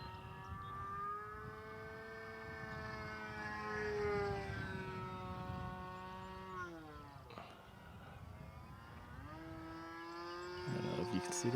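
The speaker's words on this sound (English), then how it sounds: "Those are airplanes." Droning propeller engines of radio-controlled model planes buzz overhead, their pitch rising and falling as they swoop past, with a sharp dip midway and some faint noises near the end.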